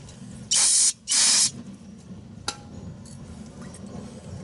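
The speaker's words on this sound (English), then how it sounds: "Clean it, brake clean" Two loud bursts of brake cleaner spray hiss onto a Toyota Corolla rear strut, each lasting about half a second with a short gap, followed by a single faint metallic clink.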